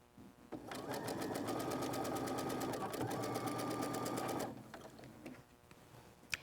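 A sewing machine stitches quilt block seams in a rapid, even run lasting several seconds before stopping, followed by faint handling clicks.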